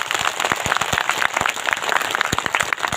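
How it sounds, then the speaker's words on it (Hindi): A crowd at an outdoor village gathering in the cold claps together, many sharp individual hand claps in a quick, uneven patter, close and lively throughout. "तो सबसे पहले आप दोनों हाथ खड़ा करके खुद के लिए ताली बजाओ।"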